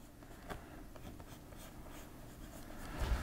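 Pencil drawing lines on paper, a soft continuous scratching with a few firmer strokes, close and quiet over low room noise.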